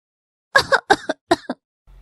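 A few forced, staged coughs in quick succession from a close voice, followed by a short silence.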